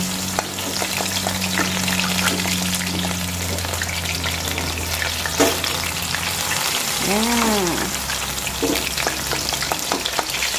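Battered enoki mushrooms deep-frying in hot oil, a dense, continuous crackling sizzle at close range, with brief bubbling surges and a soft clink partway through.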